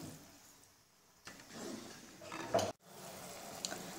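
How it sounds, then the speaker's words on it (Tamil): Okra tamarind curry simmers in a pan with a soft, quiet bubbling sizzle, and a brief utensil clatter partway through. No one speaks. "நல்லா கொதிக்கட்டும்."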